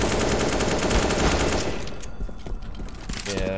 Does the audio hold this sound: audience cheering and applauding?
no